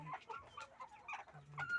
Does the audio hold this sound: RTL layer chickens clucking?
yes